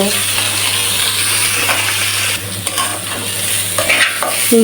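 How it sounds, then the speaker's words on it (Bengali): Washed mung dal sizzles and fries in a pan while a utensil stirs and scrapes through it, a steady close-up crackle with intermittent clinks. "ডালটাও ভাজা হয়ে গেছে কিছুটা এবার"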